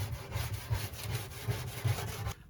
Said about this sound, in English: Now just press this plastic part and try to remove as much as baking soda as possible.